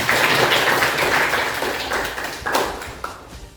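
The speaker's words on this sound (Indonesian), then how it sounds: "tepuk tangan untuk kita semua" A classroom of schoolchildren clapping their hands together, a dense, steady burst of applause that fills the room and fades toward the end, with a few louder claps standing out.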